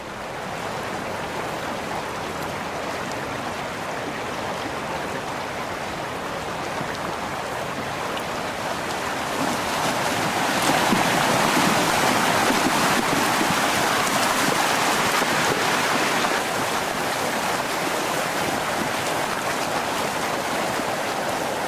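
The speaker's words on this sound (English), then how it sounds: "It's the full force of Yosemite Creek, which can be up to, say, 100 cubic feet per second." Yosemite Creek rushing in winter with frazil ice, a dense continuous roar of flowing water that swells louder midway, steady and close with no voices.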